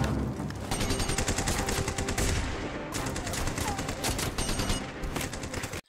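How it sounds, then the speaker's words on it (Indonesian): Machine gun fire in a war battle, dense rapid bursts of automatic shots crackling loudly for several seconds, a short break, then another sustained volley before cutting off abruptly. "Dengan aba-aba dari Michael, mereka mencoba menghancurkan senapan mesin Jerman."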